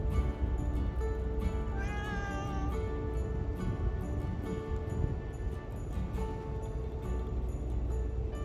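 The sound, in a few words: cat meowing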